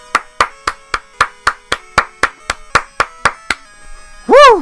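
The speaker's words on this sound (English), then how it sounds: "Let's give a round of applause." A single person claps hands in an even rhythm, about fourteen close, sharp claps, then a short high sliding whistle-like sound follows.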